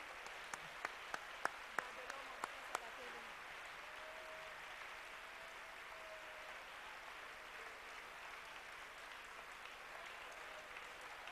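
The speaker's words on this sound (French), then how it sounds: "Applaudissons le Seigneur." A congregation at a bilingual national and international church convention claps steadily in continuous, moderately distant applause, with a few sharper individual claps near the start.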